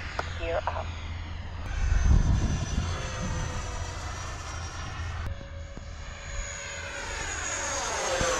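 A Su-30 jet aircraft coming in to land, its engine producing a steady loud roar with a whining tone throughout, with a brief thump partway through.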